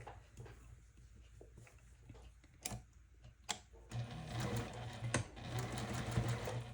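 A sewing machine stitches layer cake quilt blocks, starting with a few scattered clicks and taps, then running in a steady close whirring hum for the last few seconds.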